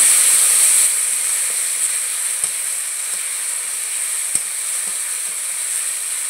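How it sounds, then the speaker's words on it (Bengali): Ginger, onion and garlic paste frying in hot oil with a steady, bright sizzle, loudest at the start then settling into a continuous hiss with a few faint clicks of stirring. "পেঁয়াজ আর রসুন বাটাকে একটু ভেজে নেব"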